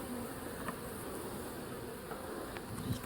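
Bees from a hive disturbed after a storm buzz in a dense, steady swarm close by, with a few individual insects whining louder as they pass near.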